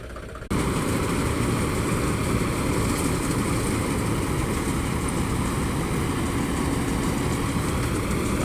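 A grain harvester's engine runs steadily in a village field, a dense low drone that begins abruptly after a moment of quiet and holds at a constant, close, loud level throughout.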